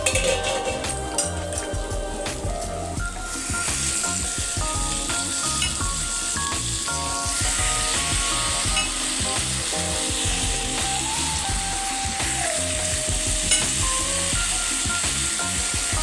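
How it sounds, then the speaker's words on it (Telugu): Chicken pieces dropped into a pan with ginger-garlic paste and sliced onions, frying with a steady loud sizzle and scraping, clattering stirring throughout, no talk over it. "ఇప్పుడు చికెన్ వేసేసుకుంటాను"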